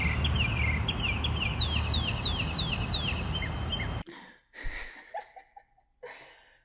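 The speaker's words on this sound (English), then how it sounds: "the aggressive bird tweeting in the background" Repeated sharp, aggressive bird chirps ring out loudly over a dense noisy background, then the sound cuts to quieter, sparser calls and a few scattered chirps.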